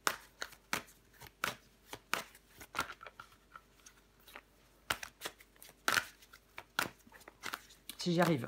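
Tarot cards being shuffled, handled and flipped over, giving a series of sharp papery snaps and riffles at an irregular pace, with someone talking briefly over them.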